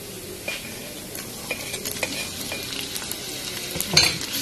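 Chayote and tomatoes sizzle in a hot pan while a spoon stirs and scrapes through them. A brief louder clink comes near the end.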